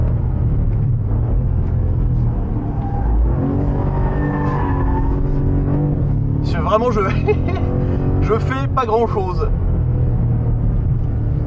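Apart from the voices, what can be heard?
rear-wheel-drive sedan engine accelerating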